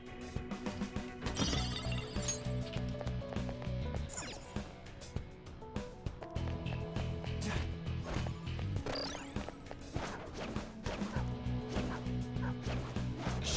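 Demon dogs barking in Persona 5 Royal, repeated bow-wow barks and yips over a dense, continuous game music track, fairly loud throughout.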